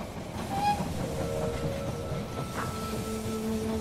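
Rail noise in the They Are Billions strategy game as a train pulls into a station, a steady rumbling roll with faint tonal squeals and a low horn-like tone rising near the end, fairly quiet.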